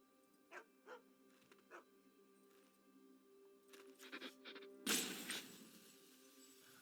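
A cartoonish dog barks and yips a few times in the MTG Arena card game, short soft woofs followed by a brighter burst, fairly quiet with no talking.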